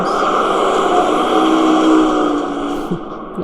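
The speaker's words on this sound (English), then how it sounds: "Lots of traffic sounds." Loud, close road traffic: a car engine roars past steadily, then the sound fades as it moves away.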